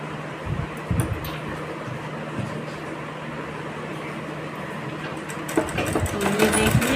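A sewing machine stitches a blouse border in a steady, continuous mechanical whir that grows louder and busier toward the end.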